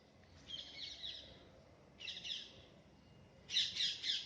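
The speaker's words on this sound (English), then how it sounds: "The birds are also chirping in the morning." Birds chirp in the morning near chiku and mango trees, in three short, bright bursts of twittering with gaps between, moderately distant over a quiet outdoor hush.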